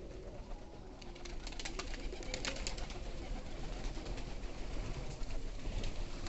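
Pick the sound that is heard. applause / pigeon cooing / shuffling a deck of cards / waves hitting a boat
pigeon cooing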